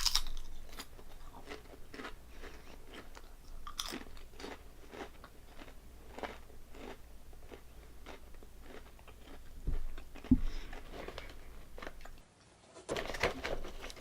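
Calbee honey butter potato chips are crunched and chewed close to the mic in crisp, regular bites. A few louder crunches and a brief pause break up the steady chewing.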